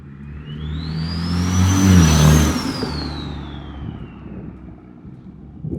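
A car engine with a T51R turbo modification roars as it accelerates past, the pitch rising to a loud peak and then fading as the vehicle pulls away.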